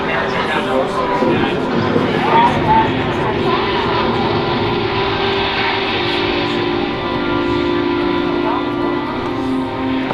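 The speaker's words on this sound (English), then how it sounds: "So he's going to pull down this helicopter." A continuous roaring helicopter engine drone from a film scene, loud and steady overhead, with a voice talking faintly underneath.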